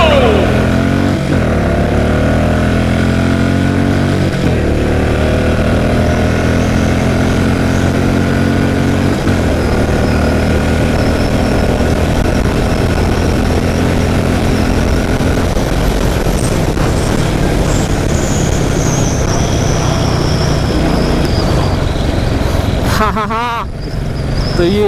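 A Royal Enfield Classic 500 and a Bajaj Dominar 250 racing side by side on the road: loud, continuous engine roar with rising and falling revs and gear changes, wind rush throughout, close and sustained for the whole stretch.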